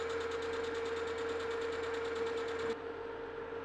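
A metal lathe turns an adapter flange with a steady tonal hum and a rough cutting rasp, which cuts off near the end and leaves the motor running quieter.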